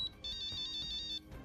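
A phone ringtone chimes in a quick repeating electronic pattern, loud and close, then cuts off abruptly.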